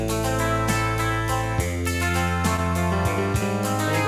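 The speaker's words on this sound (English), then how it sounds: "The style is called 6/8 guitar." Guitar-style accompaniment pattern in 6/8 on a Stardust Gold instrument, played in a major key, with steady sustained harmonic chords and a gently lilting rhythmic pulse, clear and close with no talking.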